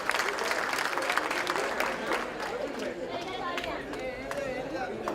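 A crowd claps steadily with scattered voices and chatter mixed in, the applause loud and dense at first, then thinning slightly.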